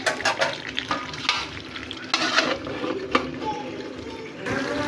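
Beef with water lily stems and jackfruit seeds frying in a pot, with a soft sizzle under repeated close scraping and clattering stirs of a spoon against the pot.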